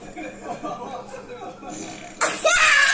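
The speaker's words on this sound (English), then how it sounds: "Here comes a laughing fart." A laughing fart sound effect played by Alexa: mumbled, giggly vocal sputtering, then a sudden loud, raspy, noisy blast that holds to the end, heard close and alone.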